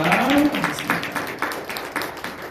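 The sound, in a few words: church congregation clapping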